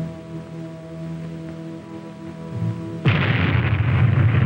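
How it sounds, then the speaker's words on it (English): An atomic bomb test at the Nevada Test Site in 1954 sets off a loud blast wave. A steady droning hum gives way to a sudden, powerful broadband roar that keeps rumbling to the end. "The moments tick away as we await the bomb and the fireball."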